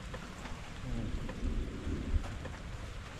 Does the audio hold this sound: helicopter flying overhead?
no